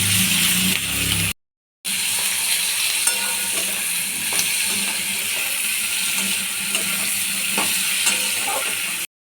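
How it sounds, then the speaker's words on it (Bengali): Chicken pieces for chilli chicken fry with a constant close sizzle in a pan, broken by a brief dropout near the start, with occasional light clicks of stirring and no talking. "খালি কালারটা চেঞ্জ হবে সেরকম ভেজে নেবো, খুব বেশি ভাজবো না।"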